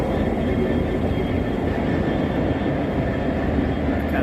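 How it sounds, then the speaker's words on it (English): GB Rail Freight Class 66 diesel locomotive hauling a works train in London, a continuous loud rumble and rolling rail noise passing nearby with no break. "GB Rail Freight Class 66 on some kind of"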